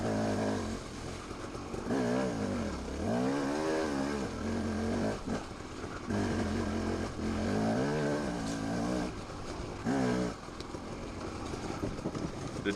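A motorcycle on an enduro race test through hilly woodland, its engine revving up and down in repeated climbs and drops, close and loud with wind noise, no talking.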